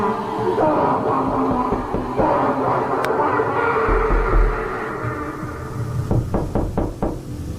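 Someone knocks on a door: a rapid run of loud, close raps comes near the end, following a stretch of muffled thuds and low background rumble.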